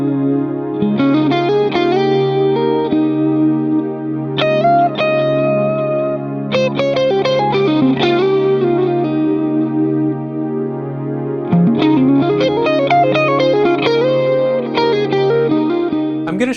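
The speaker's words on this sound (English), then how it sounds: "I'm going to show you how to get some of the great tones out of this amplifier" Electric guitar played through a Laney LA-Studio amplifier in a clean and overdrive recording demo rings out in sustained chords and melodic phrases with echo and chorus-like effects, loud and close with no talking.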